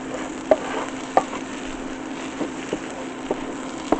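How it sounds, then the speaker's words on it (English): Ground sunflower and pumpkin seeds being stirred in a hot pan give a steady soft sizzle, broken by several light scrapes and taps of the spoon against the pan at irregular intervals. "We're going to stir that up, cover it, let it cook for a minute or two."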